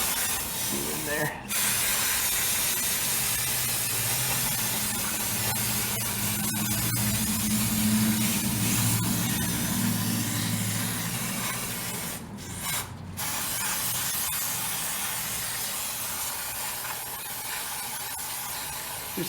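Brake cleaner sprays in long continuous hissing bursts into a car's drum brake assembly to flush out dust and residue, loud and close, with short pauses between blasts and a faint mechanical rumble beneath.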